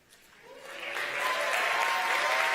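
An awards-ceremony audience breaks into applause that swells within the first second and holds as a dense, steady wash of clapping, fairly loud and with no talk over it.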